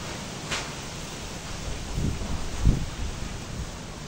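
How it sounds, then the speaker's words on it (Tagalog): Strong storm wind gusts through trees and sends leaves flying, making a steady rushing roar with a few heavier bursts and rustles. "nandito na talaga ang unos maglipad na yung mga dahon niya"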